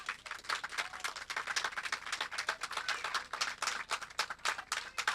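A church congregation claps together as an offering of applause to the Lord, with a steady, dense patter of many hands that fills the room evenly throughout, with no voices on top.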